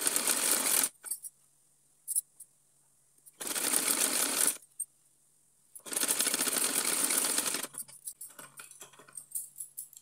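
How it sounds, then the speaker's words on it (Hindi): Sewing machine stitching a small cotton outfit for a Laddu Gopal figure: three bursts of rapid mechanical stitching separated by pauses, close and steady, with faint handling clicks between runs. "यहाँ से खींचते हुए इस तरह से हम इस पर सिलाई लगाएंगे।"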